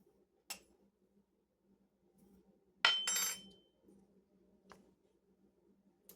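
Measuring spoon clinking against a container while scooping dehydrated onion flakes, a few sharp metallic taps and a short rattling scrape, spaced apart in a quiet room.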